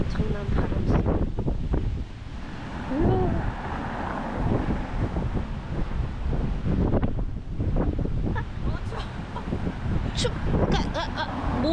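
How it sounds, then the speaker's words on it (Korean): Strong wind during a snowstorm on Jeju Island, loud and gusting, buffeting the microphone with rumbling surges, while a person talks over it at times. "엄청난 바람 소리."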